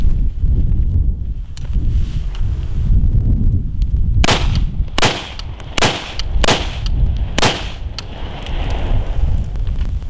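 A rifle fires a five-round group at the range, sharp loud reports spaced about a second apart, each followed by a short ringing tail over a windy outdoor background, with no talk.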